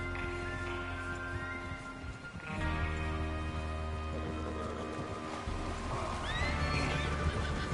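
Horses whinny and neigh a couple of times over clip-clopping hooves, with ambient game music and background noise, in Red Dead Redemption 2.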